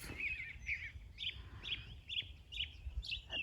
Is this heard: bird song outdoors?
yes